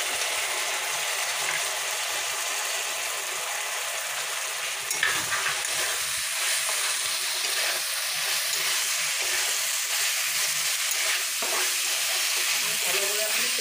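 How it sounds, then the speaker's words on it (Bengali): Potatoes and soaked soybean chunks sautéing with spices in oil for a Bengali soybean dalna, a steady loud sizzle and fry with scraping stirs running throughout, no talking. "মশলাটার সঙ্গে আমার ভালোভাবে আলু সোয়াবিনটা কষানো হয়ে গেছে"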